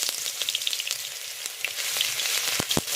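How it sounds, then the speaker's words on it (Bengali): Chopped garlic sizzles in hot oil in a pan while cooking aloo dum, a close, continuous crackling hiss with a few brief stirring clatters near the end. "রসুনটাকে একটু ভালোভাবে ভেজে নেব।"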